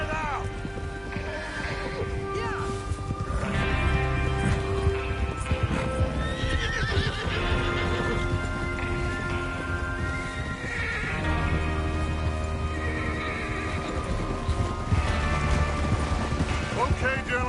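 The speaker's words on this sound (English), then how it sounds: "Get your horses ready." In the video game Red Dead Redemption 2, horses whinny and neigh repeatedly over the rhythmic clip-clop of hooves, with music and a rain-like hiss filling the background.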